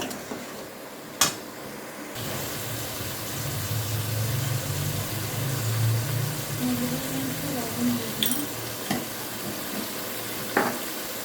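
Crab pieces with salt sauté and sizzle in a pan for a Bengali crab dish, a steady frying hiss with scraping stir strokes and a few sharp utensil clinks against the pan, no speech heard.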